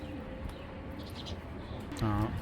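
Racing pigeons coo softly in the background, with one clearer, louder throaty coo near the end over faint ambient noise.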